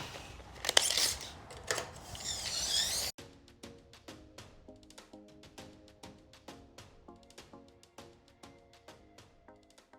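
A solid aluminum piece is cut with a power saw during a bathroom shower door installation. A loud grinding cut comes first, then a quieter series of rhythmic metallic clicks and ticks as the tool winds down.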